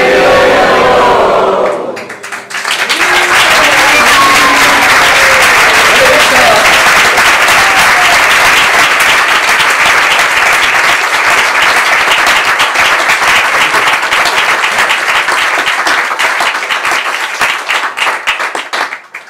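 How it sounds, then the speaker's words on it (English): A large audience at a Vyasa-puja celebration breaks into loud, sustained applause after chanted praise, dense clapping that holds strongly for over fifteen seconds before tapering at the end. "you applauded to this and you agreed"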